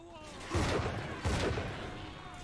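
Enemy gunfire in BioShock 2 Remastered: two bursts of shots, each a cluster of sharp reports over a low rumble, separated by about a second, with a voice talking over the game sound.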